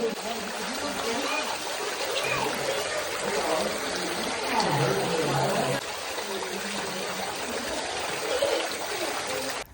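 Water trickles and splashes steadily at a garden water play area in Tulsa Botanic Garden, a continuous close wash of flowing sound with faint voices in the background.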